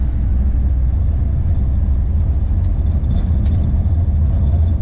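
A 1966 Chevy Nova's engine with a re-jetted Rochester BV carburetor runs steadily at mid revs, a deep, continuous rumble heard from inside with road noise and no talking.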